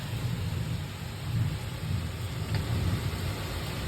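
Pouring rain on a stormy day in Jacksonville, Florida, a steady dense hiss with a low rumbling undertone like distant thunder, continuous throughout with no voices.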